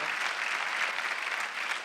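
Congregation applause during a Sunday church worship service: a brief, steady wash of many hands clapping at once, even in loudness, with no voices on top.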